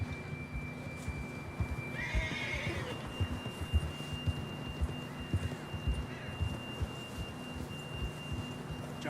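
A horse in Red Dead Redemption 2 gives a clear whinny over soft, irregular hoof clops and faint ambient game sound, moderately distant and fairly quiet.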